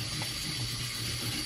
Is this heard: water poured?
yes